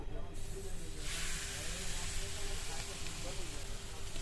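Chicken pieces dropped into hot oil give a steady, fairly quiet sizzle and hiss that swells after a moment and holds on.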